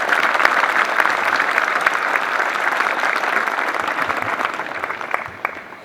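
A large audience at an LAPD police recruit graduation ceremony applauds steadily and loudly, the dense clapping holding for several seconds before thinning slightly at the end.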